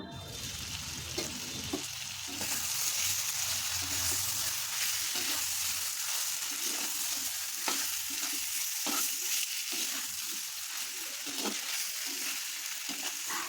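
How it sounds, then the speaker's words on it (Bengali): Thin-sliced meat being stirred and fried in a clay pot crackles with a continuous close sizzle, punctuated by repeated scraping stirs at an uneven rhythm, no talking. "এখন আস্তে আস্তে মাংসটাকে কষিয়ে নিতে হবে।"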